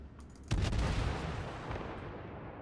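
A single heavy naval gun salvo from a warship in World of Warships, one sharp boom followed by a long rumbling decay, moderately distant with no talking.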